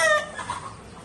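A rooster gives a short, close cluck in a brief burst with no voices over it.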